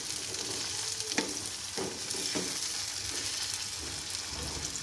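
Tomatoes and okra frying together for bhindi masala, a continuous sizzle broken by a few sharp stirring scrapes of the spatula, near and fairly quiet, no voices.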